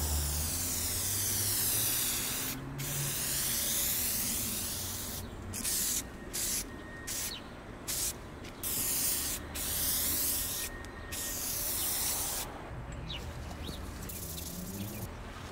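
Ceramic coating being sprayed onto a turbo engine part for an M50 E30, the third and final coat: a loud, steady spray hiss in repeated bursts broken by short pauses, close to the nozzle.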